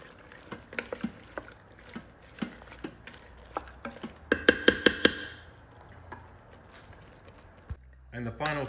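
Spicy beef chili ingredients are stirred in an Instant Pot, with a spoon knocking and scraping the inner pot in repeated close strikes, quickening into a rapid run of clacks midway, with a voice faintly in the background.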